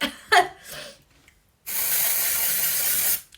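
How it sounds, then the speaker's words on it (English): A brief laugh and breath, a pause, then a single long, loud spray hiss from an aerosol hairspray can lasting over a second before cutting off. "just spray it in your roots"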